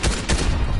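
Bursts of rapid machine pistol gunfire in a shooter video game, a tight cluster of loud cracks packed into under a second.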